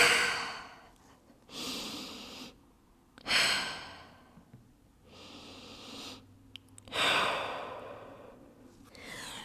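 Slow, deep yoga breathing in child's pose, four or five long close breaths with soft sighing exhales separated by quiet pauses.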